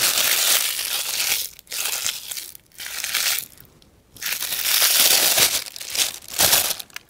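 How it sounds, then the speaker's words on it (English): Heat transfer foil being crumpled by hand, loud close crinkling and crushing bursts separated by brief pauses. "For distressing with foil, it's actually very simple. All you have to do is crumple this up"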